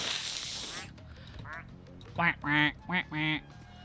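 A lizard-person duck in a deckbuilding video game quacks four times in quick succession, loud and close, after an earlier burst of noise and soft background sound.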